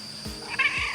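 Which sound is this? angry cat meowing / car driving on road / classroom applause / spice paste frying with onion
angry cat meowing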